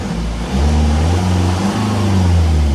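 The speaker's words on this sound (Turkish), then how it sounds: "Arabayı çalıştıracağım." A BMW M5 engine starts and rumbles loudly and close by, settling into a steady idle.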